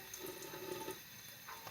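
Hot water runs steadily from a kitchen tap into a sink, a continuous close hiss and splash that fills the whole moment without talking.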